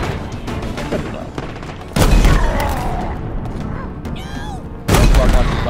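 Explosive rocket launcher blasts in the Halo video game, two loud booming hits about three seconds apart over a noisy battle background with some speech-like sound mixed in.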